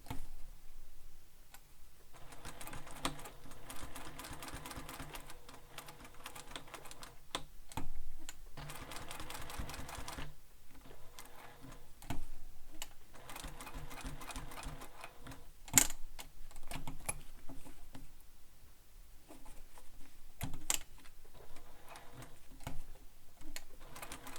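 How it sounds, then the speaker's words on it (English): A sewing machine stitches a second row along a sling pack, its needle running in steady ticking bursts with short pauses between runs, close and moderately loud, no voices. "And you can do a second row of stitching."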